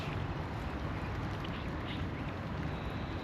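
Young Muscovy ducks on a farm, a dense, continuous raspy murmur of duck calls close by against steady background noise.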